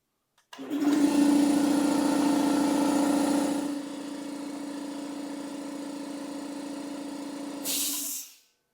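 An air compressor runs steadily with a strong low hum and mechanical drone, its tone dropping partway through as pressure builds toward 90 psi, then a short burst of hiss near the end before it stops; no talking.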